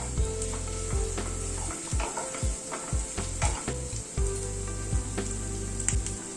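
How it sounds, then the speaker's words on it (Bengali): Garlic paste fries in a pan for a Coorg-style paneer masala curry, a loud close sizzle broken by repeated rhythmic spoon strokes and scrapes roughly every half second. "রসুন বাটাটা দিয়ে আবার একটু নাড়াচাড়া করে নিচ্ছি।"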